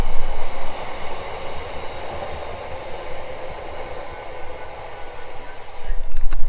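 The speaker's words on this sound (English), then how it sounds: "that's a big train" Big train rumbling past near a hiking route in the Edale valley, a loud, steady roar of rolling wheels and engine noise that swells again toward the end.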